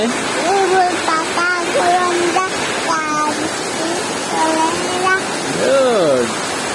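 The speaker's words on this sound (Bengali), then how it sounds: "কত জোরে বৃষ্টি হচ্ছে, দেখছো বাবা?" Heavy rain pours in a steady, loud rushing wash while someone talks and sings over it.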